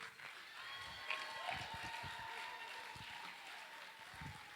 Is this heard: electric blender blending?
no